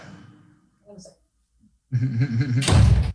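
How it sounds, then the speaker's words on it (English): A door at home closes with a soft shuffle and a short thud, then a voice picks up and carries on talking close by. "Let me just close my door here because I think my whole house can hear me."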